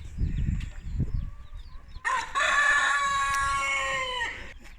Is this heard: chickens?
yes